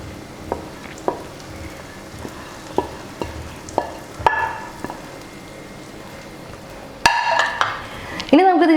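Crushed cooked beef is stirred into a pan of fried spices, with sharp spoon taps and scrapes against the pan at intervals before a louder burst of sizzling near the end.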